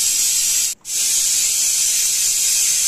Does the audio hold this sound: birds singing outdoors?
no